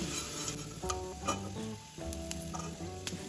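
Vegetables for shukto fry in oil while being lifted out, a faint, steady sizzle under repeated light clinks and scrapes of a metal utensil against the pan.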